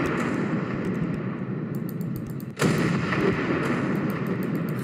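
Ship guns fire among ocean liners in the game Ship Crash Physics, a continuous rumbling barrage with one sharp, heavier blast partway through, loud and dense.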